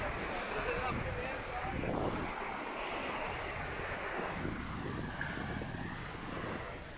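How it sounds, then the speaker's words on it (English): Caribbean Ocean waves at Cap-Haïtien, Haiti, wash and roar continuously with wind buffeting the microphone, and a person talks over the surf. "Look at the Caribbean Ocean, guys."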